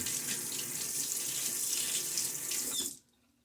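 Cold water runs from a tap into a sink as a steady, close, hissing splash that stops abruptly near the end and leaves quiet.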